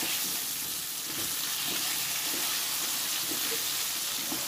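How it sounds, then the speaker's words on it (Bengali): A continuous, even sizzle of potatoes frying in a covered pan, soft and muffled with faint bubbling underneath. "দুবার তিনবার ঢাকা খুলে খুলে নেড়ে চেড়ে লাল করে আলুটাকে ভেজে নেব।"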